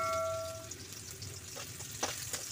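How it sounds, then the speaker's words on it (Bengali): Chopped onions frying lightly in hot oil in a wok, a soft sizzle with a few light stirring scrapes, close and quiet, with no talk. "পেঁয়াজ কুচিটা একটু হালকা ভেজে নিব, যাতে পেঁয়াজের কাঁচা গন্ধ না থাকে।"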